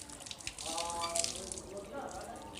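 Water splashes as a face is washed during wudu, several soft splashes and trickles close by, with a low voice partly audible underneath.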